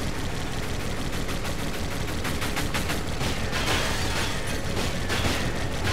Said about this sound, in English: Why doesn't he stop shooting?